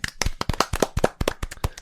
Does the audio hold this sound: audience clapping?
yes